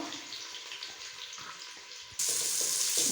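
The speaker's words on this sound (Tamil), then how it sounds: "வெங்காயம் சேர்த்துட்டு நல்லா வதங்கணும்." Sliced onions with fennel seeds sauté in a pan for mint pulao, giving a steady bright sizzling hiss that jumps louder partway through and continues without talk.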